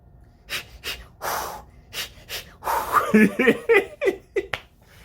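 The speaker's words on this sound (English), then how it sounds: "Breathe, motherfuckers." Deep, forceful breaths in and out repeat in an uneven rhythm, loud and close, some sharp and gasping, like a guided breathing exercise with no spoken words.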